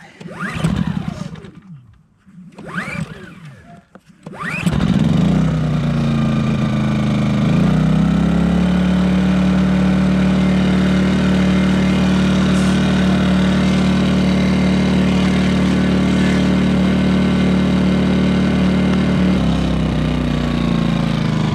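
A 2000-watt portable generator takes a few sharp rope pulls before catching, then runs at a loud, steady drone close by for the rest of the clip, with no voices.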